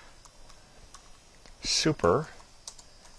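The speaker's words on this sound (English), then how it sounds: "I'm going to start typing" Code is typed on a computer keyboard in a steady patter of quick, light key clicks, with someone briefly speaking over the typing.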